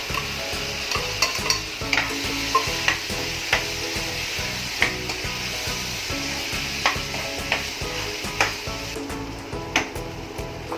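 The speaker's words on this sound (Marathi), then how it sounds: "तर आपण छोले घालूया." Chickpeas stirred into sizzling, oily masala in a pan for Amritsari pindi chole, a dense frying hiss broken by a regular rhythm of spatula strokes and scrapes, up close and without talk.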